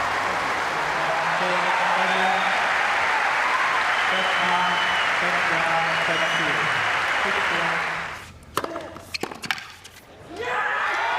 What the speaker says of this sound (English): At last, an ovation.